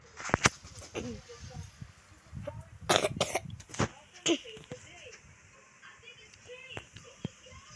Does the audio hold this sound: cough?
yes